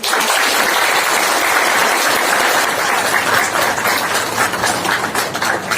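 Audience applause fills a ceremony hall, with dense, loud, sustained clapping running steadily for several seconds and no talking over it.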